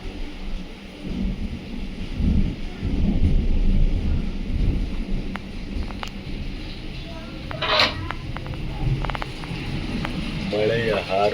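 Heavy night-time rain with thunder during a storm in Maski, a continuous loud rumbling roar with rolling low swells and a few sharp crackles, fairly close; a voice is heard faintly under it near the end.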